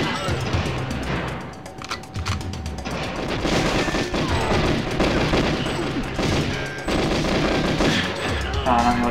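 Gunfire in the video game GoldenEye 007, heard as dense, loud bursts of shots and explosive booms running continuously through a train level firefight.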